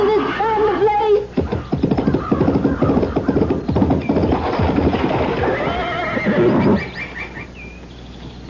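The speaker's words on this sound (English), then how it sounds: "she clapped spur to her horse and headed for a high stone wall" A horse whinnies loudly, then its hoofbeats pound along at a gallop, with a further neigh near the end, in a radio drama sound effect about a rider spurring toward a stone wall.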